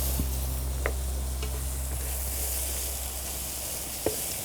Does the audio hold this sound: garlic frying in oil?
yes